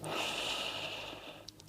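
A slow, deep inhale through the nose during a gentle beginner yoga mobility session, a soft airy hiss close to the mic that fades out, followed by a faint click.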